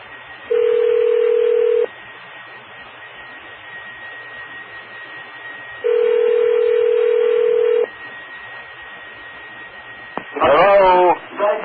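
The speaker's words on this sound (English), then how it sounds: "Auto patch dialing." Over a radio autopatch, a telephone dial tone sounds twice in steady blocks, then a quick burst of DTMF dialing tones follows, all heard through a narrow, radio-filtered channel.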